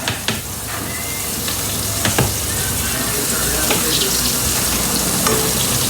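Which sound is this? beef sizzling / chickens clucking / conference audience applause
beef sizzling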